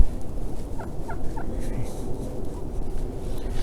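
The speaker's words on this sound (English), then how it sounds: "Here's our little friend, the turkeys" Wild turkeys gobble in a few short bursts over steady outdoor background noise, heard at a moderate distance.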